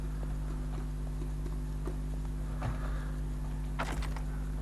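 Hooves of a horse mount in the fantasy MMO Allods Online clop in a regular rhythm over a steady game hum and music bed, with a brief brighter effect near the end.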